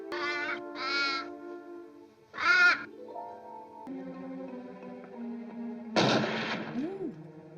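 A gunshot cracks amid cawing crows in a 1964 Pink Panther film scene: several harsh caws up front, then a sharp blast near the end over a sustained tonal music bed.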